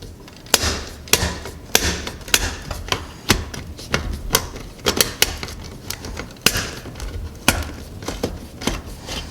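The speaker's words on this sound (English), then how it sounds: "that noise you heard, that clicking, is me slipping" Sharp metallic clicks and snaps repeat irregularly, a dozen or so close and loud, as a tool slips off a slotted fitting on a coin box over and over.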